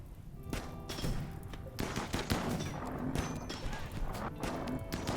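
Rapid bursts of gunfire crackle in a dense, continuous RimWorld game soundscape, with thuds and clatter mixed underneath.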